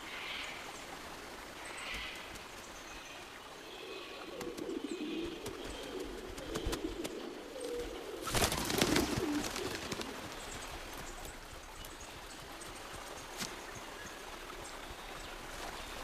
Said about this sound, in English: with forest plants setting seed, the seed-eating birds arrive